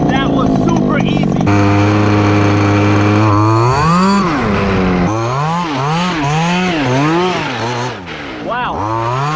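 A rare 1993 Traxxas Monster Buggy, a 1/6 scale RC car with a 23cc Zenoah gas engine, buzzes at a steady idle, then revs repeatedly in loud rising and falling whines, close and alone.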